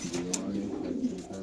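Pigeons cooing in a loft, soft low murmuring coos close by, with a faint voice in the background.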